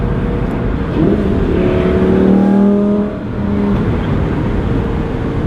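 A Lamborghini engine rises in a smooth rev and then eases off as the car heads into a corner on a joyride, heard from inside the cabin over a steady road rumble.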